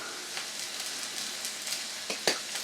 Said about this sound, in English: So we're just going to keep giving that a nice stir around.